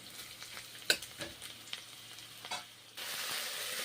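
Boiled cauliflower stalks drop into a hot wok for a stalk chorchori, giving a few sharp sizzling bursts and stirring clatters before a steady, loud frying hiss takes over near the end.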